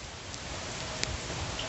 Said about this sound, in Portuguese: Olha que linda a chuva.